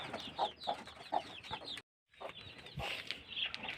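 Chickens cluck softly and fairly far off in short, choppy bursts at a quiet yard, with a brief gap of silence before more scattered clucks and rustling.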